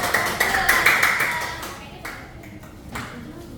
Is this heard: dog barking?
no